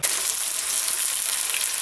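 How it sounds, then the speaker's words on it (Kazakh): Onions fry in a kazan with a loud, steady, dense sizzle that holds evenly throughout, with no talking. "Пиязын қуырып жатырмыз."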